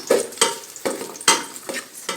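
Garlic and onion being sautéed in hot oil in a casserole pot, with repeated stirring scrapes every few tenths of a second over a soft, continuous sizzle, close and clear.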